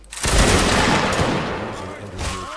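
A musket volley from an infantry line in the Napoleonic Wars battle game Mount and Blade: a loud, dense roar of many overlapping shots that swells at once and rumbles on for a couple of seconds.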